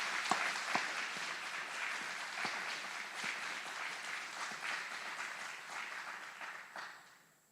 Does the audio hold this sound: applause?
yes